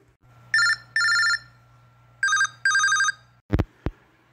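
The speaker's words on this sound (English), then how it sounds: "I should call my good buddy, MegaStan29" An old-style telephone bell rings in two pairs of short bursts over a steady low hum, then two sharp clicks as the handset is picked up; no one speaks.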